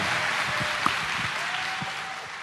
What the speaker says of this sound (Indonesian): Kita kasih tepuk tangan untuk Anies Baswedan.